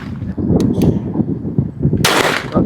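A gunshot fired at a shooting target, a sudden sharp loud crack that bursts in near the end over a steady low rumble of background noise, heard up close.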